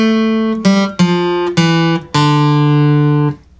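An acoustic guitar in open position plays the D Dorian mode as single plucked notes in a short sequence, each note ringing clearly, with the last one sustaining and fading; no talking.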